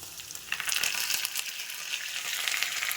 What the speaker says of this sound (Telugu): ఒక నాలుగు పచ్చిమిర్చి వేసుకుంటాను